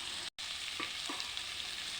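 Green chillies dropped into hot oil with cucumber for a cucumber curry, giving a steady close sizzle with a couple of soft stirring clinks and one brief dropout near the start.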